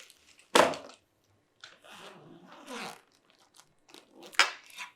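A backpack is opened in a quiet room, with a sharp zipper pull, then softer rustling of fabric and another quick zip near the end, all close and alone.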